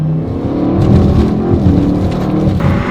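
A tuned Audi RS6 making about 850 horsepower revs hard and accelerates with a loud, close, rising engine roar over a few seconds, without any talk.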